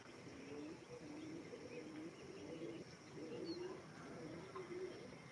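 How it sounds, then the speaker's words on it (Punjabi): Soft, low cooing of domestic Malwa pigeons repeats in gentle rolling phrases, fairly quiet against faint background hiss, with a few light chirps. "ਆਪਣੇ ਕਬੂਤਰ ਆ ਜੀ ਦੇਸੀ ਮਲਵਾ ਕਬੂਤਰ ਹੈਗੇ ਆ"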